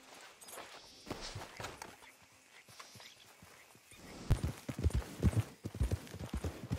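Ardennes horse hooves clip-clop in Red Dead Redemption 2, at first as sparse, uneven steps, then turning louder and quicker into a steady walking rhythm near the end.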